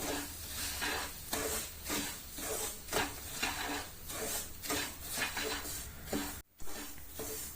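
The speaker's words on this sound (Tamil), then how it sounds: "இதில் ரவையை சேர்த்து நல்லா ரோஸ்ட் பண்ணி எடுத்துக்கலாம்" Semolina (rava) with cashews being roasted in a pan, a quiet dry sizzle with rhythmic scraping strokes of a spatula stirring the grains.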